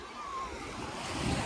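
Ocean waves wash onto the beach at Playa de las Americas with a continuous surf roar and wind noise, fairly close, no voices.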